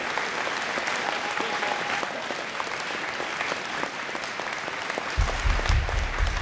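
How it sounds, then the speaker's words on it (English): Audience at a special town meeting in Richmond breaks into continuous applause, a dense steady clatter of many hands over six seconds, with a low rumble joining near the end. "give this young man a round of applause"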